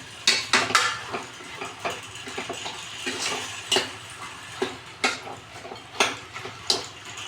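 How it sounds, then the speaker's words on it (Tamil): Repeated scraping and clinking of a utensil against a metal pot as chicken is sautéed with turmeric, irregular bursts of stirring close by with a soft background hiss. "போட்டு நல்லா ஒரு வதக்கி மூடி போட்டுடலாம்."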